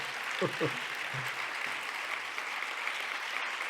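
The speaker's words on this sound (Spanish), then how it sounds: "Mil gracias por todo este auditorio que te aplaude." An auditorium audience applauds a speaker after a talk on plastics, a steady wash of clapping with a few brief spoken words near the start.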